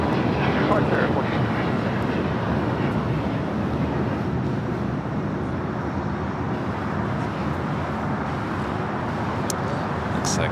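Boeing 757 jet departing from Los Angeles International Airport, a steady loud engine roar filling the whole stretch, with faint speech in the background.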